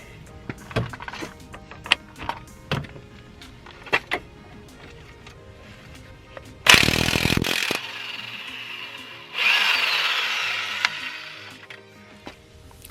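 A power tool breaks loose the axle nut on a Subaru WRX with a broken axle. Faint clicks and taps come first, then two loud, close bursts of buzzing tool noise, each about a second long.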